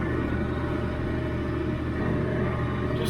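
A tractor in low range second gear with multi-power engaged pulls a John Deere 348 square baler through a hay field at baling speed, giving a steady, loud engine rumble that holds constant throughout with no talk.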